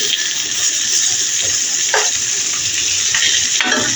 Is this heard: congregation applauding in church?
no